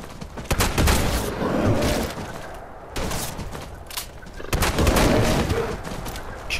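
Rapid bursts of gunfire aimed at a bear in a video game, loud and close, coming in dense volleys with short pauses between them.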